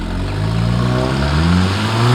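VW MK7 Golf Sportwagen 1.8T with aftermarket downpipe and resonator delete, a steady loud droning exhaust with a slight rise in revs, heard close up and alone.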